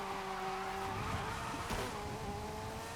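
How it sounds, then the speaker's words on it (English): Car drifting through a corner in Forza Horizon 5 during a Euro Cross seasonal championship race, with a steady engine drone and sustained tire squeal rising and sliding in pitch, loud and close, alone without talk. "Such a sweet drift through there."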